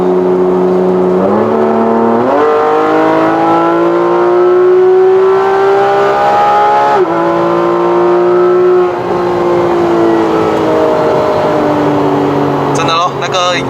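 A 2015 Porsche 911 GT3 RS with a naturally aspirated engine revs hard through the gears, its loud, rising whine climbing steadily with each pull and dropping at the shifts, heard from inside the cabin with someone talking over it.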